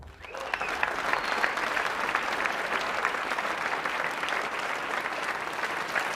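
A large audience at a Gamescom 2014 Call of Duty: Advanced Warfare multiplayer stage demonstration applauds steadily, a dense, sustained roar of clapping that holds at even loudness for several seconds.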